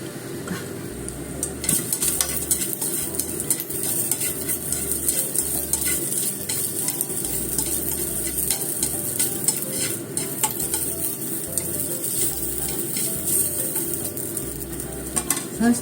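Cabbage and chikuwa stir-fry in a pan with a constant sizzle, broken by frequent scraping and clattering stirs of a utensil against the pan, close and steady throughout.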